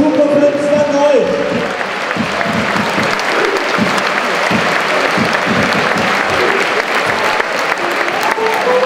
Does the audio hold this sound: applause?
yes